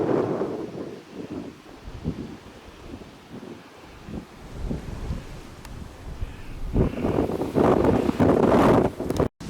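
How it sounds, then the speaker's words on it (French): Strong wind buffets the microphone in rough, rumbling gusts over burned garrigue scrubland in southern France, swelling louder toward the end, with no voices. "le vent souffle assez fort"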